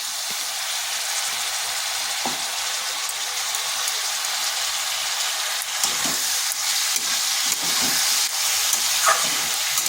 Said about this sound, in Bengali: এটাকে বেশ কিছুক্ষণ এইভাবে ভেজে নিতে হবে